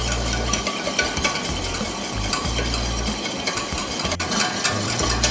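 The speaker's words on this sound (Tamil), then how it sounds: "ஸோ இதை கைவிடாமல் நீங்கள் விஸ்க் பண்ணிக்கிட்டே இருக்கணும், இல்லைனா இது பேர்ன் ஆகிடும்" A flour roux being whisked steadily in a pan for a pasta sauce, with a continuous scraping, stirring rasp and soft sizzle throughout, fairly close and even in level, with no talking.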